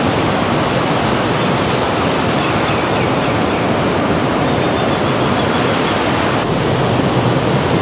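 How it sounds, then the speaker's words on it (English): Ocean waves wash onto a tropical island beach in Thailand, a loud, continuous broadband roar of surf with some wind, steady throughout and without voices. "We're on a tropical island in the middle of Thailand with the with the sound of the ocean and the waves."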